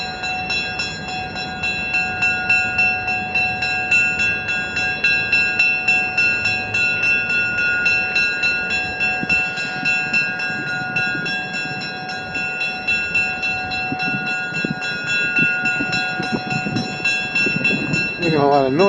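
A double-header of Alco diesel locomotives rumbles loudly nearby in a railroad setting, with a sustained whine of high tones and a pulsing engine throb that grows rougher toward the end, while a person talks over it.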